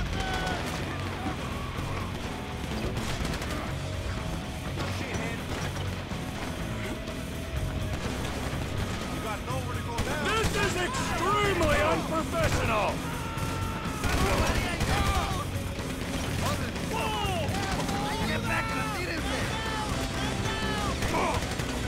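Gunshots in the video game GTA, dense bursts of gunfire crackling over a busy, constant game mix with chaotic effects throughout.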